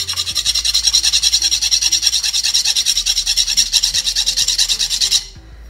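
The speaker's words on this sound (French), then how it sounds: "Ça, je vais le limer ici pour que la surface soit bien plate." A file rasping back and forth across a polymer clay Fortnite candy-cane pickaxe, flattening its surface: a fast, even, close scraping rhythm that continues steadily, then stops near the end.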